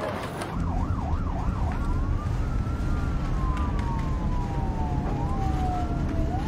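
An emergency siren wails loudly nearby, starting with a rapid warble and then shifting to long rising and falling sweeps over rumbling traffic noise.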